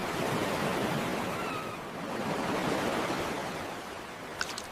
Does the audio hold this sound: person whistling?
no